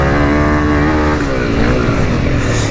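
A Honda CRF300L motorcycle engine is held at high revs under throttle, its loud, steady whine climbing slightly in pitch, with some rushing wind noise.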